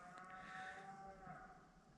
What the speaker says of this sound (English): I hope these fucking cows don't keep me up all night